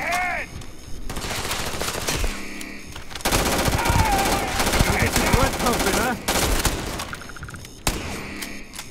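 Gunfire in the space game Starfield rattles in rapid automatic bursts with mechanical clicks between them, dense and loud for long stretches, broken by short pauses.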